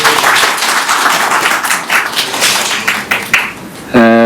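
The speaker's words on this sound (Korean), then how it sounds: "박수 한번 쳐주시기" A seminar audience at a Korean policy forum on music college admissions claps in a dense, loud round of applause that runs nearly the whole time before a voice starts speaking at the end.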